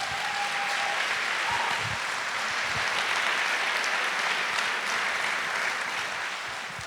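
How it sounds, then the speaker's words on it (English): Audience applause at a political talk event, a continuous dense wash of clapping heard from within the crowd, holding steady throughout with no talk over it. "You may clap."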